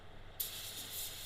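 A spray gun bursts on and holds a steady, bright, loud hiss as it sprays water-based base coat paint, after a brief quiet moment, in a continuous unbroken blast.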